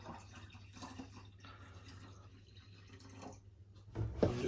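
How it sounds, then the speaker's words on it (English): Spring water trickles and drips into beer wort being topped up for an all-grain sweet porter, faint and intermittent, ending in a louder splashing pour. "I'm just going to top that up a little bit with some spring water."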